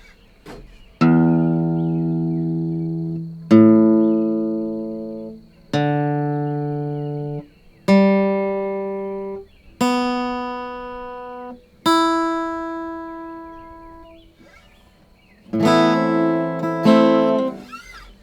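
A freshly tuned guitar's strings are plucked one at a time, each note ringing out clearly and decaying, moving from low to high before a final strummed chord.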